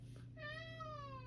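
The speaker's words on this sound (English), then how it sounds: "you can hear my cat meow in the background for attention" Domestic cat meowing for attention, a single drawn-out meow that slides gently downward, fairly quiet over a low steady hum.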